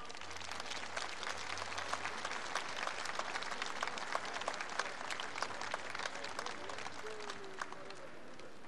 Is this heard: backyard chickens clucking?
no